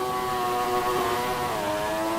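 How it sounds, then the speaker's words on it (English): A race car engine in a Roblox racing game at Silverstone holds a steady, buzzing high-revving drone with a slight drop in pitch near the end, with no talk over it. "he's definitely not on a lap, as you can see him revving the car, trying to get some temperature in those tires"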